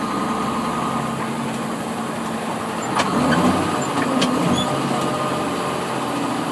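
A truck with a 9-speed Eaton Fuller Roadranger transmission runs steadily while being shifted, its engine note dipping and rising between gears, with a few clunks and a brief louder surge midway.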